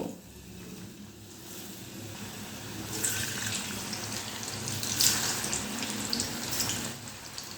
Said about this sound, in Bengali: এখন আমি গ্যাসের ফ্লেমটা লো টু মিডিয়ামে রেখে এই পিঠাগুলো একটা একটা করে দিয়ে ভেজে নেব